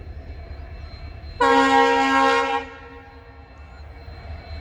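A train on the Bengaluru–Mysore railway line sounds a loud, sustained horn blast of about a second, rising sharply over a low rumbling background and fading back into steady ambient noise.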